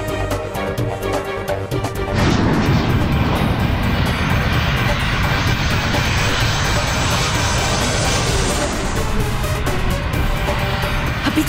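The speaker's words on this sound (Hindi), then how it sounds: "अभी तो पहिए भी नहीं खुले, फिर ये विमान नीचे क्यों जा रहा है?" A fixed-wing airplane's engines roar loudly and continuously as the plane descends, the drone swelling after the first two seconds into a broad, sustained rush with no speech over it.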